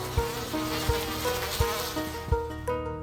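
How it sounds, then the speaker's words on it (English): A dense, steady swarm of bees buzzing fills the clip, with soft regular thumps underneath every second or so, in an animated cartoon. "the surrounding bees swarmed around Lisa's face and were ready to build a nest on her face."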